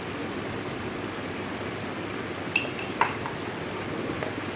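Ingredients for a shahi chicken biryani are stirred in a pot over a steady background hiss, with a couple of clear metallic clinks of a spoon against the pot midway.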